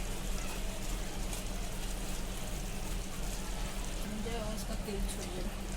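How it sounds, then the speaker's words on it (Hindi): Masala for gobhi aloo matar sizzles in oil in a pan over high heat as it is stirred, a steady close crackle and hiss running evenly throughout. "थोड़ा आग तेज़ रखेंगे और मसाले को भूनेंगे चलाते हुए ताकि लग ना जाए"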